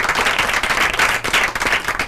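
A school group claps in a radio studio, a close, loud burst of dense, steady applause lasting about two seconds.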